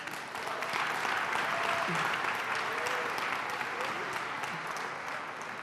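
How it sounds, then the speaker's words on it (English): Audience at a senior summit applauding the event organisers, a sustained even wash of clapping from a sizable crowd at moderate distance. "So let's give them a round of applause."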